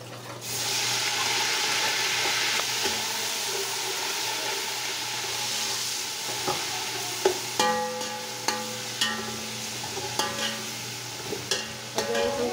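Steady sizzling of ginger garlic paste frying in a hot pan with ground onion, with a spoon scraping and clinking against the pan now and then.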